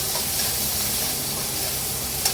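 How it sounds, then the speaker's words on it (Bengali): Pointed gourd fries with onion and salt in a little oil, giving an even, close hiss of sizzling that holds steady throughout, with one faint clink near the end. "আর একটু নুন দিয়ে দিচ্ছি। দিয়ে এবার এটা একটু ভেজে নেব।"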